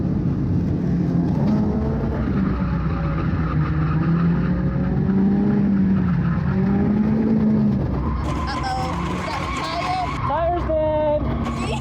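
A BMW E36 318is drifts on a track event with a delaminated tire shredding, the engine droning and revving loudly up close while tires squeal and skid, an excited voice shouting over it.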